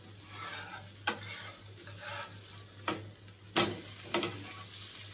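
Cucumber thalipeeth frying in a pan right after being flipped: a steady soft sizzle, broken by several sharp spatula scrapes and taps against the pan at irregular intervals.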